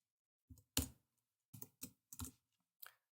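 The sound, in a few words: typing on a computer keyboard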